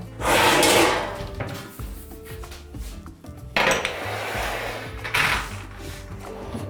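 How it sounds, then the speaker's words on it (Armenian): A metal oven baking tray is handled in a kitchen, giving loud clanks and scrapes at the start, then quieter knocks and rattles, with two more sharp metallic bangs later on, close by and with no voices. "Գործի դնենք անմիջապես ջեռոցի տապակը"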